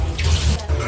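Tap water running steadily into a sink while onion and other ingredients are rinsed for shabu shabu, a close, continuous wash of splashing.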